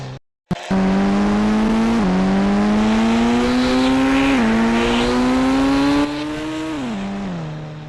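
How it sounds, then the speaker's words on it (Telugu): A Bugatti car engine roars through its exhaust silencer. After a brief click, a loud, close, steady droning note holds and climbs in stepped surges before dipping and easing slightly toward the end. "మస్తు సౌండ్ వస్తుంది అనమాట సైలెన్సర్ నుంచి"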